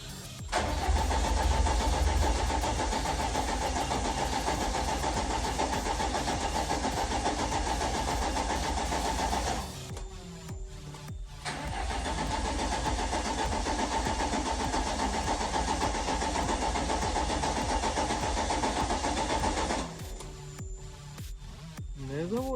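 A VAZ 21099 that sat unused for a year cranks without starting, the starter whirring loudly in two long, steady bursts of about nine seconds each with a short pause between, close up.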